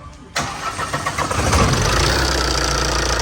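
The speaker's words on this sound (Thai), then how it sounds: "เดี๋ยวติดเครื่องดูกัน" A Tata diesel engine cranks and fires after a brief quiet moment, then settles into a loud, steady, clattering idle up close, with no talking.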